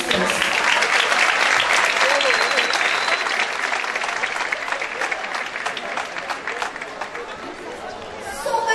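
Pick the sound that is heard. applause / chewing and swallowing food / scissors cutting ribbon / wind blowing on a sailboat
applause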